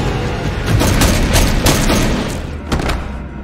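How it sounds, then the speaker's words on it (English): Gunfire from a home-invasion scene in the 2013 film The Purge: a loud, dense fusillade of rapid booming shots in an uneven rhythmic pattern, with heavy low rumble and no talk. "James's gunshot pattern here sounds an awful lot like the Terminator 2 theme."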